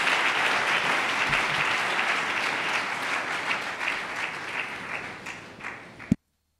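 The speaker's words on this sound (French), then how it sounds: "Acclame." A congregation at a church seminar breaks into sustained applause, a dense wash of clapping that holds steady, thins toward the end and stops abruptly.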